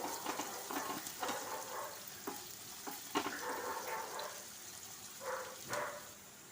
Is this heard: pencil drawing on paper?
no